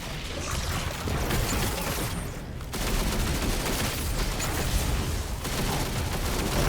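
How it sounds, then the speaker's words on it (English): Sustained machine gun fire in the Destiny shooter game during a Grandmaster Nightfall, dense rapid bursts running the whole stretch with a short lull near the middle, loud and close with no talk over it. "I've got anti-barrel on my machine gun this time."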